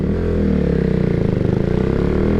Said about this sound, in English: This aftermarket exhaust with the decibel killer in, volume-wise, sounds somewhere between the full stock exhaust and the stock exhaust when I remove the side muffler.